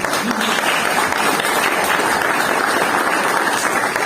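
Dense, continuous applause from a large crowd at a political debate held in an Ateneo hall in Ituzaingó, a loud, even wash of clapping with no gaps for the whole stretch.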